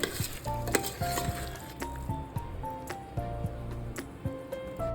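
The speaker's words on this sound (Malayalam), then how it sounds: "ഒരു പാനിൽ വെളിച്ചെണ്ണ ഒഴിച്ച് കടുകും വറ്റൽമുളകും കറിവേപ്പിലയും ഒരു പിടി തേങ്ങായും കൂടി ഇട്ട്" Mustard seeds, dried chillies, curry leaves and grated coconut fry in hot coconut oil in a pan, with a soft sizzle under repeated stirring and scraping of a spoon, close and continuous, and a faint voice in the background.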